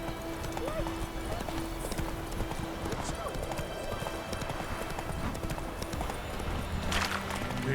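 Horse hooves clip-clopping in The Witcher 3, a steady, fast trotting rhythm running throughout with a brief whinny, under someone talking.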